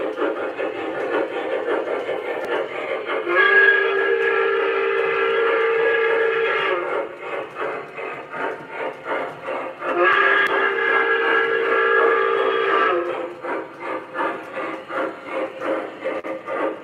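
MTH Q2 and Lionel model trains run on a layout: a steady clattering rhythm of wheels on track, broken by two long multi-tone steam-style whistle blasts of roughly three seconds each, fairly close and loud.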